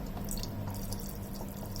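Water trickles and drips steadily into a pot of chicken curry, a soft continuous pouring with faint splashes and no talking.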